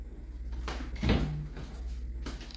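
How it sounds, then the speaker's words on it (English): A door shuts indoors with a single solid thump near the middle, preceded by a short rustle and followed by faint room noise. "You shut the door."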